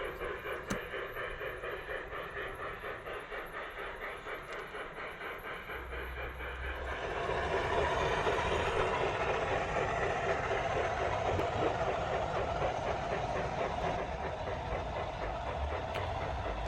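A model cattle train runs around a model railroad layout with a steady mechanical hum and rattling rumble that swells louder midway as it draws closer, continuing without voices.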